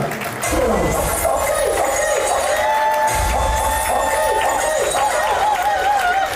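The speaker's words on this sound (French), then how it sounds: "je vais vous demander de l'applaudir et de pousser des cris de joie." Wedding guests cheer and clap loudly for the groom as he is introduced. A constant crowd roar carries shouts and whoops, with rising voices weaving through the continuous noise.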